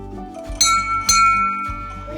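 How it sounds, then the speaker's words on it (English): A small bell is struck twice in quick succession, each ring clear and close with a bright, lingering metallic tone, followed by a softer low thump. "Lizzie, should we ring the bell and say it all together again?"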